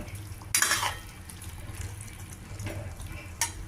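A spoon scrapes and stirs tomato and broad bean curry in a pan, a few close clattering strokes over a soft simmering hiss, with no voices.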